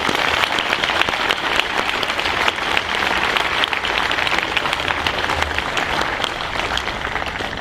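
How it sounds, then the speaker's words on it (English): An audience at a mock crash safety presentation for a high school claps steadily in a dense, loud round of applause that runs throughout without letting up. "if you wouldn't mind giving them a round of applause"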